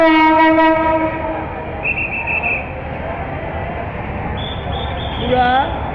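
The Madhumati Express passenger train bound from Dhaka to Rajshahi, passing the Jurain rail gate, opens with a loud horn blast, then rumbles on. Shorter tonal horn or whistle sounds come later, and a voice talks faintly over the noise.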